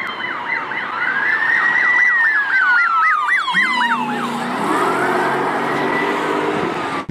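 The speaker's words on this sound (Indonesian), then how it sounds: "Di sini ada mobil polisi." A police car siren wails in a fast rising-and-falling sweep, close and loud, then shifts to a lower, steadier tone for the remaining seconds.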